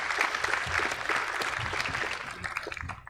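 An awards audience gives a round of applause for a Forty under 40 honoree, steady, moderately distant clapping that holds throughout and tails off at the end.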